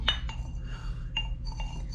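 Small toy utensils clink together, a spoon tapping against a little toy pot in a few light, sharp metallic chinks spaced irregularly, close and fairly quiet over a low hum.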